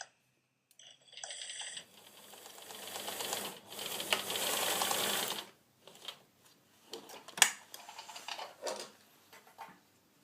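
A sewing machine back stitches at the end of a seam, heard as a few quiet, short mechanical bursts and one longer buzzing run in a near-silent room.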